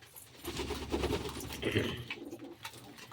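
Pigeons coo while bathing in a filled water tray, low throaty calls mixed with fluttering and splashy rustles, close and fairly busy throughout.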